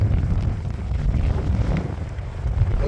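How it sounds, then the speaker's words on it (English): Strong gusting wind buffets the microphone on a walk through a park in Albuquerque during a dust storm warning, a loud continuous low rumble that roars steadily throughout. "Mostly what we got today was wind."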